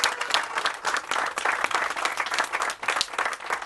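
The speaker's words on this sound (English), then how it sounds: "She needs a round of applause" Guests at an evening garden party in a tent applaud warmly, a thick wash of clapping with sharper individual claps popping out and small swells in loudness.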